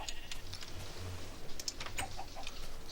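Chickens clucking in Minecraft with the Tekkit modpack: soft, sparse clucks and small chirps, faint and scattered over about three seconds against a quiet background.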